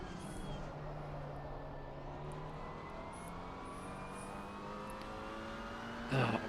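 A Porsche race car in Assetto Corsa Competizione at Indianapolis drones steadily, its engine pitch climbing through the gears at a moderate distance, with a brief louder burst near the end and no speech.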